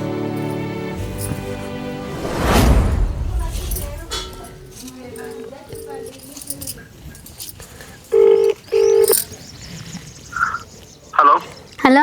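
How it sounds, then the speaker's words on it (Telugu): A telephone is dialed to call a brother: after quiet handling noises come a few separate keypad beeps, short and evenly spaced, with faint rustling and clicks in between. "నేను అన్నకు ఫోన్ చేసి అడుగుతుంది"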